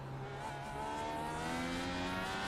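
A sustained race car engine from iRacing drones steadily at high revs, its pitch slowly climbing as the car accelerates; it is loud and continuous, with no voices over it.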